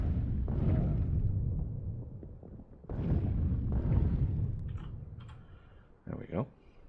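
Artillery shells from the Factorio game burst as deep, rumbling booms, two or three heavy blasts spaced a couple of seconds apart, with clicking over the top.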